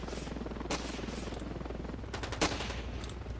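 Guns fire in a Ravenfield battle, rapid automatic bursts and a few sharper single shots rising over a low steady engine-like rumble, fairly close.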